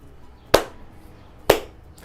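Two crisp single claps land about a second apart, marking a steady quarter-note beat in a children's music lesson, close and distinct against a quiet background.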